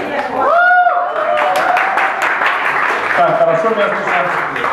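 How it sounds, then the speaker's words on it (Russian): Audience applause for a stand-up comedian at a Russian-language open-mic comedy show, a few seconds of clapping from a modest crowd mixed with a voice talking over it. "Ваши аплодисменты, поехали!"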